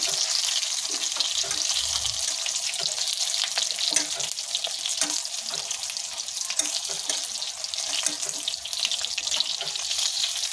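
Ooty chillies frying in a pan for mirchi curry, a steady loud sizzle and crackle of oil running throughout with a few soft stirring knocks, no talking.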